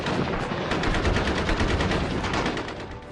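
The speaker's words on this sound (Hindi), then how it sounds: "ऐसा लग रहा था मानो गोलियों की बरसात हो रही हो" Heavy gunfire used as a sound effect in a documentary about the 1971 India-Pakistan war: a dense, continuous burst of rapid automatic shots and crackling fire, loud and close throughout, with no speech.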